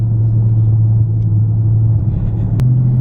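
Car cabin at night while driving, a loud steady low engine and road rumble with a slight shift in pitch near the end, no voices.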